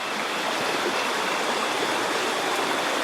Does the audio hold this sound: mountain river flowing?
yes